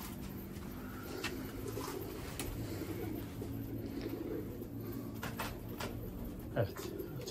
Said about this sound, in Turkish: Kuş geldi.